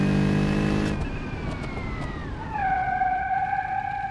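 A car engine in BeamNG.Drive on a downhill rally course, held at a steady high whine that drops in pitch in two clear steps as the revs fall, with no talk over it.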